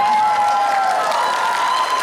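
Dense, steady applause from a convention audience fills the space, a continuous wash of many hands clapping at even loudness with a faint tone running underneath.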